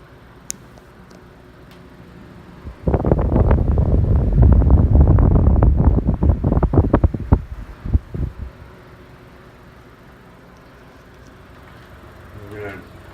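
A General Electric Quiet Blade table fan hums and whooshes steadily for several seconds, close to the microphone, with faint clicks as a knob is handled before the sound fades back to a quiet room.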